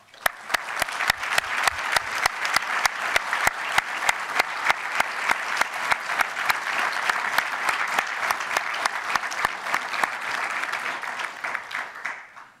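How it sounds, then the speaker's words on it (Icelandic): An audience at a seafaring industry association's annual meeting breaks into sustained applause, dense steady clapping from a crowd that holds for about twelve seconds before tapering off. "Skulum gefa þeim gott klapp."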